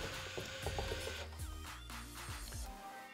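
A Minn Kota Ulterra trolling motor stows itself with a close, busy run of mechanical whirring, clicking and ratcheting from its motor and gears over about three seconds.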